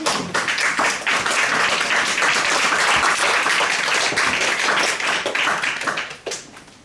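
A church congregation breaks into loud, sustained applause, many hands clapping densely for several seconds before tapering off to a few scattered claps.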